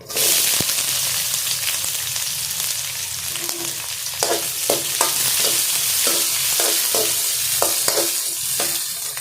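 Chopped onion sizzles and crackles loudly in hot oil, with a spoon scraping and tapping the pan at irregular intervals.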